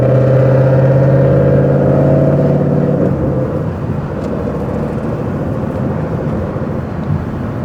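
A Ford Mustang GT engine pulls hard, its loud droning roar holding steady pitch, then easing into a rougher, lower rumble with rushing road and wind noise, close and continuous, with no talk.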